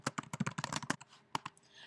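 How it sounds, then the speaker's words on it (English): Rapid, uneven keystrokes clack on a computer keyboard at close range, a burst of typing followed by a brief pause and a few more taps. "typing in the contact's name"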